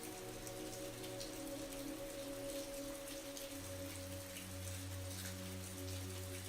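Steady rain pours onto New York city streets, a dense, even hiss of drops on pavement with a low constant rumble beneath, continuous and close throughout.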